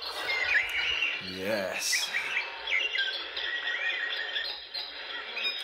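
Many birds chirp and tweet continuously through a dense dawn chorus, with a brief bit of talk partway in.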